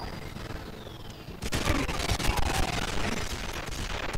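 Heavy weapons fire in the Wii version of GoldenEye 007, a dense rapid burst of loud gunshots that kicks in partway through and keeps going against a background of game noise.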